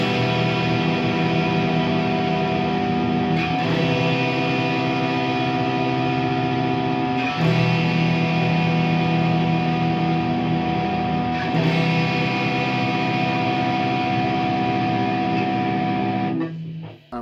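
Heavily distorted electric guitar playing two overlaid chords, held as a dense, sustained wall of sound with chord changes every few seconds, steady and close, with no talking.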